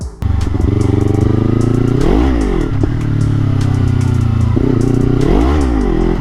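A 2023 KTM 500 EXC-F dirt bike engine runs loud and close, idling with a steady chug and then rising and falling through two throttle blips, with light mechanical clatter over the exhaust note.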